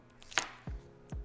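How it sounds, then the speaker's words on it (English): A knife trims the ends off a plantain on a cutting board: two faint, quick chops about half a second apart, each with a soft low thud, in a quiet kitchen. "take your plantains and you're going to cut the edges off"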